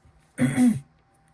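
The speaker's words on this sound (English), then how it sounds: "you'll notice that I'm clearing my throat a lot." A single throat clearing, a short rough rasp of about half a second, close and fairly loud against a quiet room.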